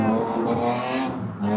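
Cars race past at a motor show, their engines roaring loudly and steadily in a dense, continuous drone with tonal revving that rises and falls, alone and close without talk.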